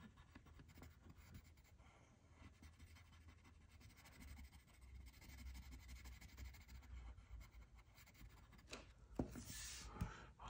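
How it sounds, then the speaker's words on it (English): A colored pencil scratches and rubs across paper in a quiet room, giving a soft, continuous rasp with brief louder strokes near the end. "I like the sound of the pencil on the paper"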